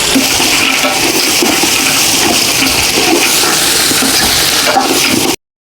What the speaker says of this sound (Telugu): దీనికోసం మూడున్నర నుంచి నాలుగు డబ్బాల నీళ్లు పోసుకుంటాను సరిపడేంత